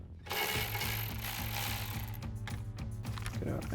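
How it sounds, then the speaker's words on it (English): Ratchet with a 14mm socket cracking loose caliper slider bolts on a 2019-2024 Sierra 1500 truck, a rapid run of close clicking pawl ticks continuing for several seconds without speech. "We'll grab our 14mm socket on our ratchet to do so. Crack those loose."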